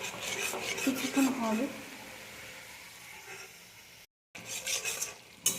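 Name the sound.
Gobindobhog rice being added and stirred into spices in a pan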